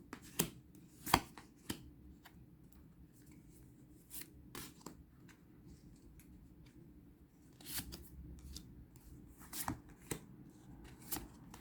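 Tarot cards being shuffled and dropped onto a table during a reading, with a series of soft, papery riffles and slaps at irregular intervals, fairly quiet and close, with no voice present.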